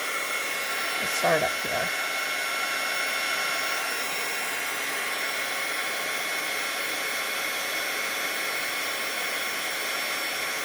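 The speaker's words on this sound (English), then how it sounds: "So this is my heat tool here." A heat embossing tool blows a steady, loud stream of hot air onto embossing powder, keeping up a constant whoosh for the whole stretch, while a voice speaks briefly near the start.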